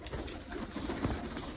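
Pigeons cooing softly and steadily nearby as they peck at scattered grain, a faint low murmur over a steady background hiss.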